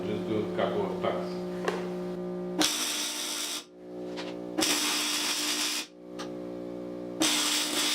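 Tack welding on a homemade hub puller for a 1966 Triumph Spitfire restoration: a few separate bursts of harsh, steady welding hiss, each lasting a second or two, separated by short pauses.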